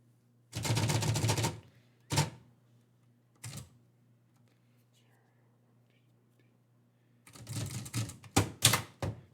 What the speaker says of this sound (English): I'm going to get my typewriter camera on so Alex 5K can see me working on his poem